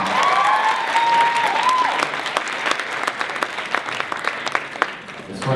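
A room full of people applauds steadily, dense clapping that holds strong and then slowly tapers off, with a brief voice over the start.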